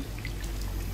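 Water pouring in the video game Dishonored, a continuous soft trickling stream heard briefly and alone.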